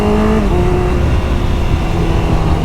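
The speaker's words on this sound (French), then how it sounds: "Ah non, c'est un scooter." A loud, steady motor engine hums close by, with a shifting tone as a small vehicle passes.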